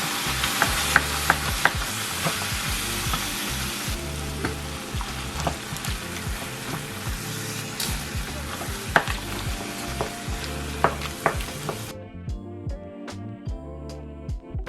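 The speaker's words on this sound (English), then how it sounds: "And you just want to stir it to make sure you're getting rid of all the clumps." Ladlefuls of hot stock stirred into a hot pot one at a time while cooking a holiday dinner, giving a steady frying sizzle with scraping spoon strokes throughout, then quieter clinking near the end.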